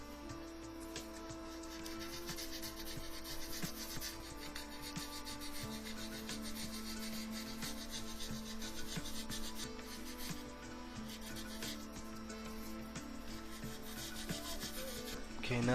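Continuous close rubbing and scraping as a Tamiya 1/48 Corsair plastic aircraft model is sanded, with a steady abrasive texture and small irregular strokes throughout and no talk.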